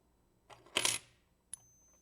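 Silver 1964 quarters are dropped for a ping test, giving a short clatter followed by one clear, bright ringing ping, close and alone.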